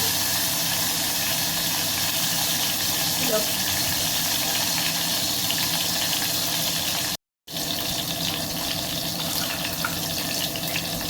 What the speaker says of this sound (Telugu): ఆవాలు వేగడానికి టైం పడుతుంది కదా, ఆవాలని కొంచెం వేగనిస్తాం